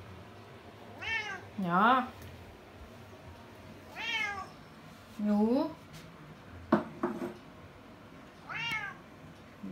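A hungry, agitated cat meows repeatedly in loud, rising-and-falling calls spaced through the clip, with a few clinks of dishes and people talking quietly in Thai in the background.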